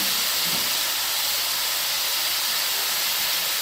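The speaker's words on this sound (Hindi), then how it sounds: "गाजर को घी में 4 से 5 मिनट तक अच्छी तरह फ्राई करें।" Grated carrots fry in hot ghee with a steady, even hiss that fills the whole stretch without a break, close and fairly loud, with no talking.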